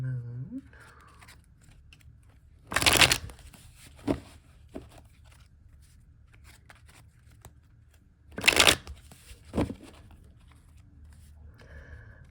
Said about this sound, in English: we'll give this a few shuffles here